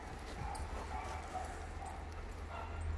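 Distant dogs barking faintly outdoors, scattered yips and barks over a constant low background rumble.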